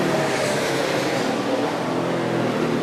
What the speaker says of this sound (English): the car making all the noise is the Stanley Toyota right here of Carl Edwards